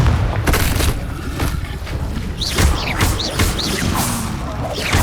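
Confringo, the explosive blast spell in Hogwarts Legacy, bursts loud and repeatedly amid the clatter of spell combat: booming impacts and crashes in quick succession, with whooshing magical sweeps between hits.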